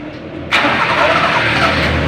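A car engine cranks on its starter and catches, a sudden loud burst of running engine noise after a brief quieter lead-in, then steady idle close by.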